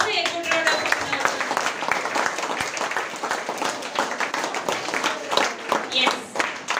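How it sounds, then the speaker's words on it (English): Applause for young children who danced at a school Founder's Day celebration, a steady mass of clapping from the audience that runs throughout, with a voice over the clapping. "we will give them also a good round of applause"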